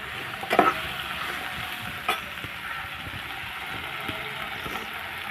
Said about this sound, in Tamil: இதெல்லாம் சேர்த்து நல்லா இந்த எண்ணெயில் வதக்கிக்கணும்.